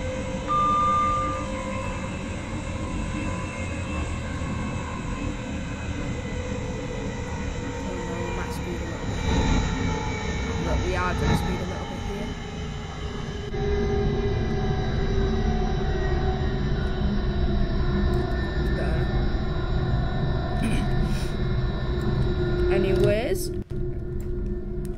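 British Rail Class 350 electric train in a train simulator game: a steady, close interior hum and rumble of the running unit with a gradually shifting motor whine, plus faint clicks and a brief sharp sound near the end.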